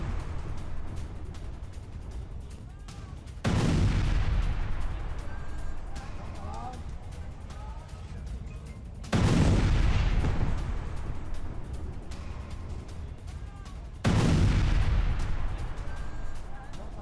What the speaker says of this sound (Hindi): तूल में वार्निंग के बाद इजराइल की बमबारी।